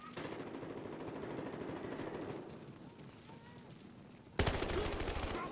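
Sustained automatic gunfire in a competitive video game match rattles throughout, a little quieter in the middle, then a louder, closer burst near the end. Faint commentary sits underneath.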